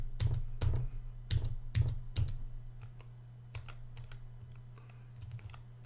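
Rapid keystrokes clatter on a computer keyboard, a dense burst of typing that slows into scattered taps over a low hum.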